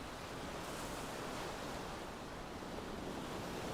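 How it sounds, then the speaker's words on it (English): Ocean waves wash onto a beach at dusk in a steady, unbroken roar of surf that stays even in loudness throughout, with no voices. "The waves are washing in, gently washing over the beach, and then flowing back out again."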